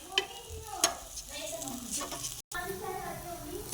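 Flatbread frying on its second side in an oiled pan, steady sizzle with a couple of spoon clinks and brief scraping, close, with no voices over it.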